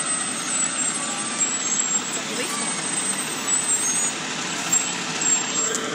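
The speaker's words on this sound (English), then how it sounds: "I'm gonna wait for the fire truck to pass" A fire truck on a city street on the Fourth of July sends out a loud rumbling engine drone with a hiss of air brakes, sustained and close, amid general outdoor noise.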